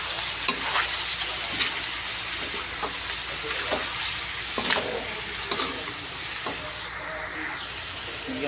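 Adobo chicken and pork being stirred in a frying pan, a steady sizzle with repeated scraping strokes of a utensil against the pan, fairly close, with faint background noise and no talk.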